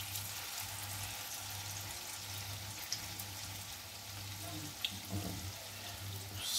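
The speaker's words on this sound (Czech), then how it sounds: "Smažíme je." Small mushroom and potato pancakes made from classic potato batter fry in a hot pan with a soft, steady sizzle, a couple of faint clicks, and a low background hum.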